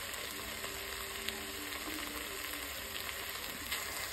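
Turkey and onions frying in a pan with added stock, a loud, steady sizzle and bubbling hiss with faint stirring scrapes, heard close up without talk.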